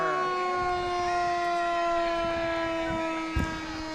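Island Lake Fire Department fire engine sounding its siren during a street parade, a loud steady wail close by with a short honk-like burst near the end.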